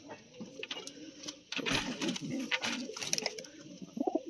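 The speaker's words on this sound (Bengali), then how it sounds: "তার পরবর্তী বন্ধুরা এক পায়রা সাহারানপুরি লাল জিরিয়া পায়রা আছে" Saharanpuri Lal Jiria pigeons in a home loft coo in low, throaty bursts, with rustling and other bird noises mixed in and growing busier partway through.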